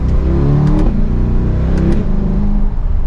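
A 2023 Chevrolet Corvette 3LT 70th Anniversary V8 rumbles with a steady, loud low exhaust drone, swelling briefly as the revs rise and fall, heard alone throughout.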